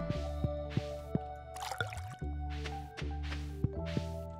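Watering pumpkin crops in the Stardew Valley farming game makes soft, squishy splashes and drips in a short burst, set over a steady looping music bed with plucked notes.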